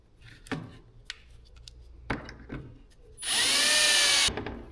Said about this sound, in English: once you got the pilot holes drilled